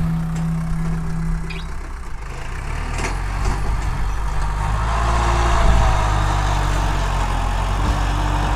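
Kubota tractor engine working hard as it pushes soil to level a rice paddy, a loud, steady, low diesel drone close by with no speech.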